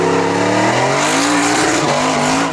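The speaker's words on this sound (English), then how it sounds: "Nice burnout from both cars, warming up the tyres." Two muscle cars, a VK Commodore and a Holden Torana, doing burnouts at a drag launch: loud, close engines roaring with rising revs over a steady shriek of spinning, squealing tyres, without talk.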